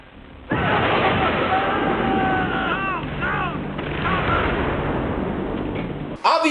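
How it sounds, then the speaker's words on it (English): Explosions from warplanes firing missiles in the Splinter Cell video game, a loud continuous barrage of blasts and rumbling with whistling streaks overhead, ending in a sharp crack. "The major ones are American warplanes firing missiles to reduce the place to its component atoms."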